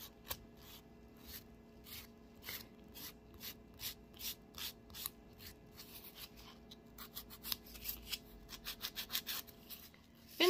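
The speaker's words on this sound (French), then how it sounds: "vous repassez votre lime pas sur l'ongle, mais vraiment sur la prothèse" A nail file rasps back and forth over a resin dip-powder nail prosthesis, a close, steady run of short scratchy strokes that speeds up toward the end.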